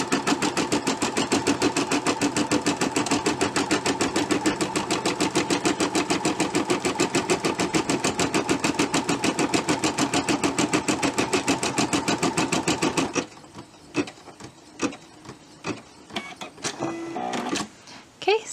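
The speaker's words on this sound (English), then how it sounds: "it's going to put stitching down to hold the design down, hold the fabric down" An embroidery sewing machine stitches a tack-down around a tree ornament design on fabric, with loud rapid needle chatter in a steady rhythm for about thirteen seconds. It then stops, followed by quieter handling clicks and rustles.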